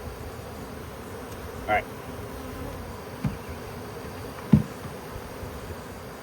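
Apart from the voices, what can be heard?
honey bee swarm buzzing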